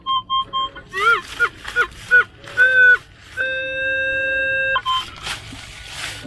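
A 30-30 metal detector over a silver target gives a series of short chirping electronic beeps, then a long steady tone held for over a second, then more brief chirps, fairly loud and close outdoors with no talking.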